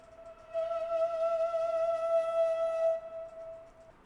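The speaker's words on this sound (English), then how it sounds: "So for the flutes, this Kashmir flute, it has a very nice like fade in" A sustained, breathy Kashmiri flute tone holds one pitch for a few seconds, then fades out gently with a soft reverberant tail.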